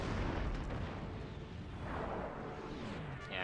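Cannons fire on a battlefield in the strategy game Total War: Empire, heavy booming blasts and rumbling explosions rolling one into another continuously, dense and loud with no pauses.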